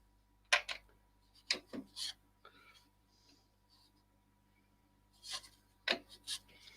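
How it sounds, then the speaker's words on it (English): Edges of a small coloured and textured square ceramic dish are sanded by hand in short quick rasping strokes, grouped in brief bursts with quiet gaps, close and fairly faint. "quickly give the edges a sand."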